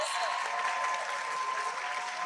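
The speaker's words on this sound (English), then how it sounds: "let's give them a round of applause, please." Quiet, steady applause from an orientation audience of new undergraduate students, a dense patter of many hands held at an even level for a couple of seconds, with faint tonal hum beneath.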